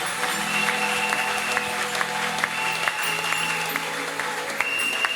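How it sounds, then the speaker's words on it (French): A church congregation applauds steadily, with dense, continuous clapping that sustains at an even level throughout, close and full, with no talk over it. "Applaudissons l'Éternel pour."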